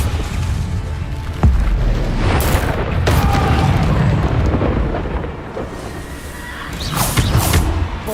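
Bombarda spells explode in Hogwarts Legacy, rumbling booms with heavy low-end blasts and crackling debris that follow one another closely, loud and close, with magical whooshes between impacts.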